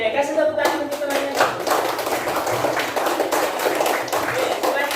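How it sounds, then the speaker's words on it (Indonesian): A class of students applauds a classmate with steady, fairly loud clapping that runs throughout, with a few children's voices faintly mixed in. "Oke, kasih tepuk tangan untuk temannya."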